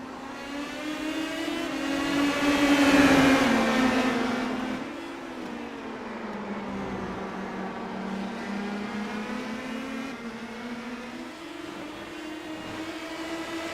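IndyCar open-wheel race cars in a sim racing game scream past close together, with steady high engine whines rising and falling in pitch as they run nose to tail, loud and continuous.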